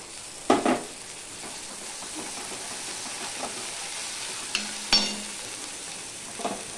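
Onions fry with ginger paste in a pan under a steady low sizzle, broken by a few sharp clanks and scrapes of a utensil stirring against the metal.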